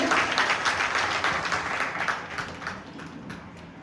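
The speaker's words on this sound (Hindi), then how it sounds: "एक बार जोरदार आप तालियों से इनका अभिनंदन करें" A crowd applauds with dense clapping that gradually fades and thins out.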